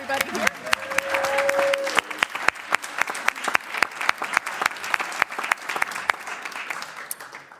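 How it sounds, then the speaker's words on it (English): Applause from an assembly audience of Unitarian Universalist congregations, dense continuous clapping from many hands lasting several seconds, close and loud, with a brief voice at the start. "We could have a round of applause for everybody here."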